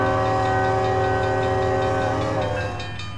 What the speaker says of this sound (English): Oh my god, the intermodal is there.